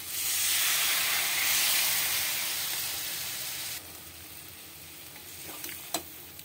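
Water splashes onto spice paste that has been frying in a pan and sets off a loud, hissing sizzle. The hiss slowly fades to a quieter crackle, with a few sharp clinks of a stirring utensil at the end.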